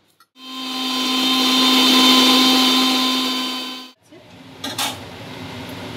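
An electric mixer grinds dry-fried garlic and black cumin in a steady, loud whirring roar for about three and a half seconds, then cuts off abruptly, followed by faint clatter and handling noises.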